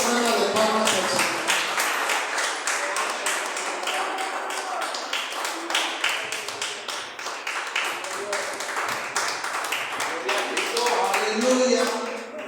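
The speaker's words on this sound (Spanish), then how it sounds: "denle esa ofrenda de palmas al Señor" Church congregation clapping hard in unison as praise offered to God, a loud, steady stream of sharp claps lasting throughout, with a few voices mixed in beneath.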